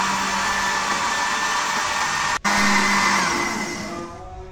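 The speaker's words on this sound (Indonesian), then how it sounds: "kemudian di blender sampai tercampur rata" A kitchen blender whirs steadily as it mixes white sliced bread with sugar, cocoa powder and full-cream milk, a loud continuous motor hum that briefly stops once and then restarts, with no talking.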